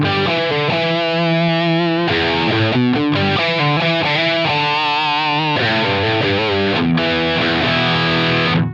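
Electric guitar played through a Line 6 HX Stomp with high and low shelf EQ engaged, loud distorted chords and riffs ringing out continuously with no talking over them.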